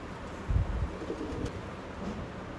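Soft low cooing from Andhra pigeons kept in a loft, a couple of brief throaty bursts over a faint airy hiss, close by and otherwise quiet.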